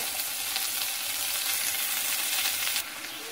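Vegetables sautéing in a pan, heard as a dense, steady close sizzle that holds evenly throughout and drops slightly softer near the end, with no talk.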